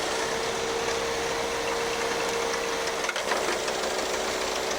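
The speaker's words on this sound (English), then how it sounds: "so the engine's starting to run rough" A 2.4L Chevrolet Equinox engine runs steadily with a rough, uneven idle and a faint knocking underneath, close by, with no voices.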